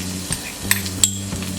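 Crushed garlic hitting hot oil in a pan on a gas stove, a soft sizzle beneath a low steady hum, punctuated by a few sharp metallic clinks of a spoon against the pan.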